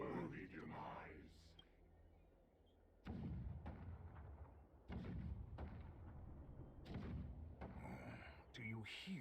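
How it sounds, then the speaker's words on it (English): Deep booming cannon rumbles roll in the video game Honkai Star Rail, with heavy thuds landing a few seconds apart. A voice speaks quietly between and over them. "The rumble of the cannons."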